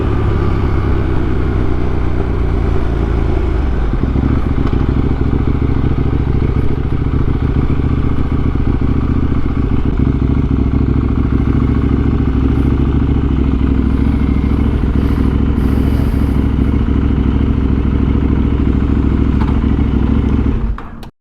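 Riding on a KTM Duke 890R motorcycle gives a steady, loud, close engine drone with rumbling wind and road noise. Early on the pitch falls off as the bike slows, then the drone holds at a constant level.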